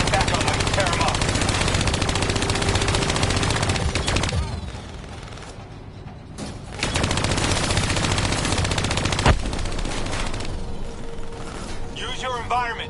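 Sustained turret machine gun fire from Call of Duty Black Ops 3 chatters loudly and continuously, briefly dropping away mid-clip before resuming under a dense layer of game effects and voices.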